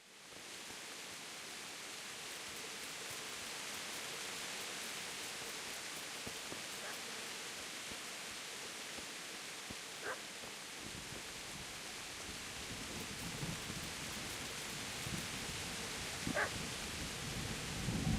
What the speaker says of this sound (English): It is raining quite heavily.